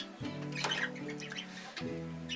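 A European goldfinch gives a few sharp, squeaky calls and twitters nearby, over a faint steady hum.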